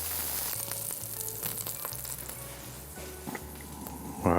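Saddle of lamb with sage sears in a hot pan, a steady close sizzle and crackle running throughout, with a few soft clinks near the end and no talking.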